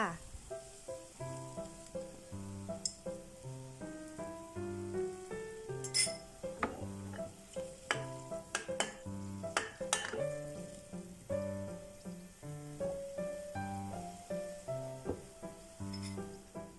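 Marinated pork sizzling and frying in a pan, a steady close crackle broken by repeated sharp clinks and scrapes of a utensil against the pan.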